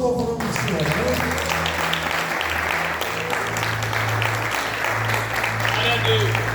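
A church congregation claps in praise, a sustained wash of many hands clapping steadily, with a voice speaking and low tones running underneath.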